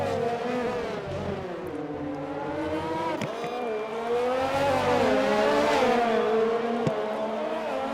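Formula 1 race cars from the game F1 2020 on the Russian circuit, engines droning steadily with rising and falling pitch as they run down toward a corner, loud and continuous throughout.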